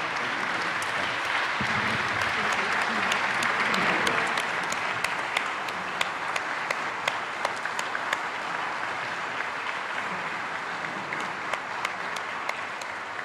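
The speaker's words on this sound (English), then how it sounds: "give everyone in all of our new extended family a big round of applause" A large audience gives a long, even round of applause. The crowd clapping stays steady throughout, with a few sharper individual claps standing out.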